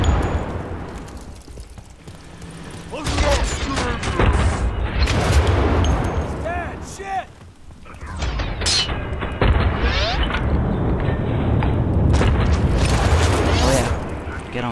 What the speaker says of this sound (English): Tossing grenades.